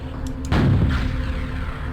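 A rocket fired from a guided missile launcher in a video game: a loud, deep whooshing blast about halfway in, trailing into a rumbling roar over steady background noise.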